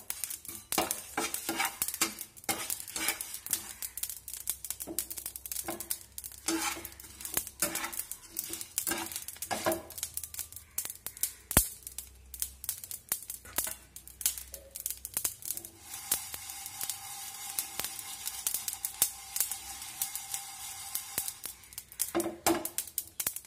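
Spices for a jujube pickle are stirred in a pan, giving a continuous dry rattling scrape with rhythmic spoon strokes against the metal, fairly close and alone without talk.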